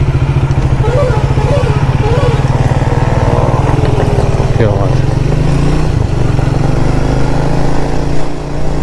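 A Triumph 400 motorcycle, Speed 400 or Scrambler 400X, is ridden with a steady, close, loud engine drone that holds an even throb throughout, while a rider's voice talks over it.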